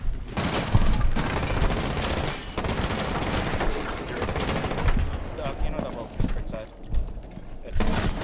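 Rapid automatic gunfire from a Rainbow Six Siege match crackles in dense bursts with a few heavier booms, while a player talks over the shooting.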